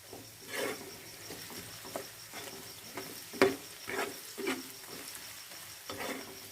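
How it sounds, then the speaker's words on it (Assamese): Ground cumin, turmeric and meat masala fry in oil over low-medium heat, giving a faint, steady sizzle with scattered soft pops and stirring scrapes, close and alone. "লো মিডিয়ামত ভাজি কৰি থাকিম।"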